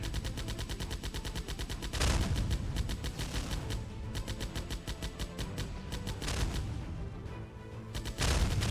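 Rapid automatic gunfire in the VR shooter Cargo Cult Shoot N Loot, a dense continuous rattle of shots with louder bursts recurring over several seconds, heard alone without talk.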